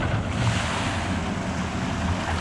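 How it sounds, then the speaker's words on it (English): Rushing water and splashing at a theme park log flume ride, a steady broadband wash with wind buffeting the microphone, continuous and fairly loud with no talk. "The cutest log flume in the world."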